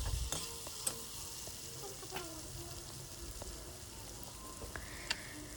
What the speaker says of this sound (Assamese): একেলগে গোটেইখিনি ভাজি আছে